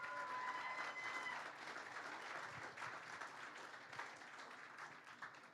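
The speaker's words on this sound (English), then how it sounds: "Give her a round of applause anyway." An audience at a political talk event applauds, a dense wash of clapping that holds steady and then slowly thins out over several seconds.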